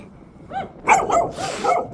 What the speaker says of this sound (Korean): 짖지 말어